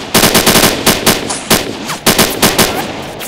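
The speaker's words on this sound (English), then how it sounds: "What kind of shooting is that?" Loud, close automatic gunfire from a sci-fi action film battle in the woods, rapid bursts of machine-gun shots with brief gaps between volleys.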